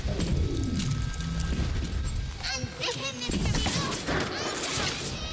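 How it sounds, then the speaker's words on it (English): Gunfire and frag grenade blasts in the video game BioShock Remastered: a dense, loud barrage of shots and crashing explosions that runs through the whole stretch, with sharp bursts standing out. "So I'm just going to go in guns ablazing with the frags."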